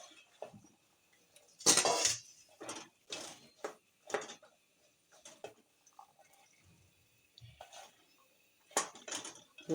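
A spoon scrapes and clinks against a cooking pot while chickpeas are stirred through spices for a chole curry, giving scattered, fairly close metallic knocks separated by quiet gaps.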